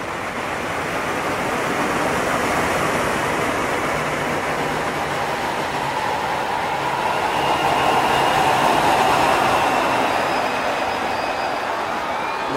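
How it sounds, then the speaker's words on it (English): A dense, continuous roaring wash like crashing ocean surf, synthesized from a hand clap, swelling and rumbling steadily without a break, loud and enveloping. "that's how we can transform a clap to an ocean wave."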